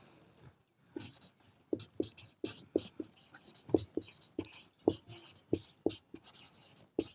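Pen writing out a math solution on paper: close, crisp scratching strokes with a steady run of tapping taps and short scribbles, about a dozen distinct marks in quick rhythm, with faint breathy voice sounds between.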